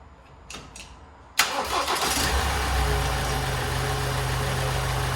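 A 2017 Ford Transit Custom EcoBlue diesel van engine, airbox temporarily refitted after repair, cranks briefly and fires up, then settles into a steady loud idle close by, with faint clicks beforehand.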